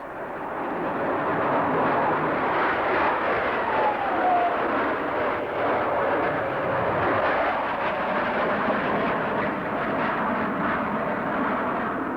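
A Starfighter jet aircraft flying at an air show, a loud continuous roaring rush of jet noise that holds steady throughout with no talk.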